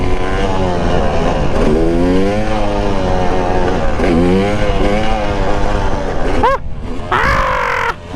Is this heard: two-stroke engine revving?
yes